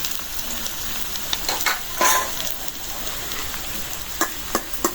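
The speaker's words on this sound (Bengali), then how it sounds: "আলুগুলি ভাজা হয়ে গেছে" Potato pieces with turmeric and salt frying in a pan hiss with a steady close sizzle, punctuated by sharp clicks and scrapes of a utensil turning them; no one speaks.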